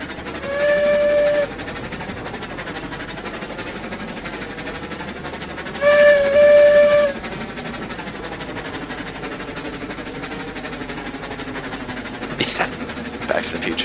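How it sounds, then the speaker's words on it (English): The louder Betsy steam locomotive whistle in Railroads Online gives two strong blasts several seconds apart over a steady rumble of rolling train noise. "It's just the same Betsy whistle, but louder."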